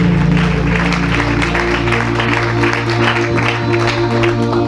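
A church congregation applauds God during a service, a dense, loud, sustained clapping that fills the room evenly over a held tone of music or voices beneath.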